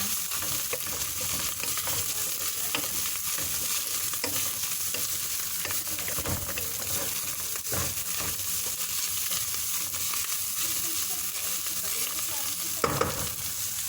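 Meat and potatoes seasoned with salt and black pepper fry and get stirred in a pan. A steady sizzle carries scattered scraping strokes and a brief clank near the end.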